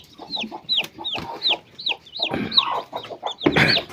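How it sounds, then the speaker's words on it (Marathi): Newly hatched chicks peep in a rapid series of high, rising chirps close by, with a hen's low clucks and rustling mixed in; no one speaks. "पाच 6 पिल्ले निघालेत अजून"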